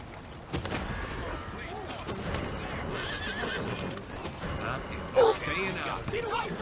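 A horse neighs in the Western video game Red Dead Redemption 2, a sharp whinny rising near the end over clip-clopping hooves, game sounds and talk.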